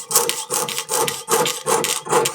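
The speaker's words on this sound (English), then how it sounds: "So I try to get as close as I can with the saw" A jeweler's saw with a fine blade cuts 26 gauge titanium sheet in five rhythmic back-and-forth strokes, each a close, bright rasping scrape with brief pauses between.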